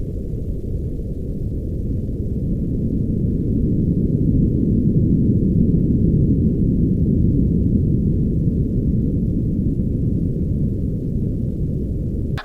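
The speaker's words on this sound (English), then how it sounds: "the sound of a magnitude 5 earthquake rumbling near Guam on July 16th, 2015" A deep, continuous low rumble fills the whole stretch, steady and heavy with no high tones: a magnitude 5 earthquake near Guam recorded underwater.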